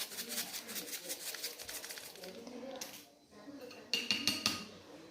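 A spoon scraping and clinking against a pan while stirring honey chicken, with several louder metallic knocks toward the end and a person talking over it.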